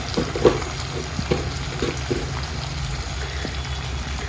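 Green chillies for pickle frying gently in oil over a low flame, giving a constant soft bubbling sizzle with a few light stirring taps near the start, close and steady throughout.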